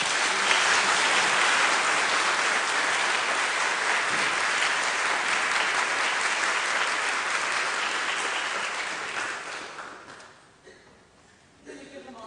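A congregation's applause fills a church service, a loud, dense wash of clapping hands that holds steady for about ten seconds before fading out.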